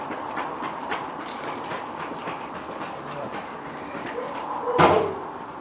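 A train rumbles steadily through a rail setting during a big summer storm, with a brief louder clatter near the end; light voices murmur faintly under the noise.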